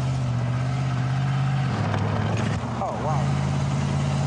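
The V8 engine of an Excalibur car weighing over two tonnes holds a steady, deep idling drone with a brief dip in pitch, while a man exclaims briefly over it.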